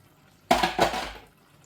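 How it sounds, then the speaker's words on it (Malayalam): A short splash of water poured into a pan of spinach avial, a brief gush lasting under a second that fades out quickly. "ഇച്ചിരി വെള്ളം കൂടെ ആഡ് ചെയ്യുന്നുണ്ട്"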